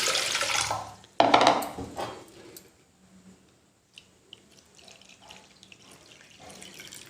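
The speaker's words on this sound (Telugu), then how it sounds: "వాటర్ పోసుకుని" Water pours into a cooking pot in the kitchen, two cups of it going in for steaming rice-flour dough for jaggery kudumulu, a loud splashing rush at first that tapers into quieter trickles and drips.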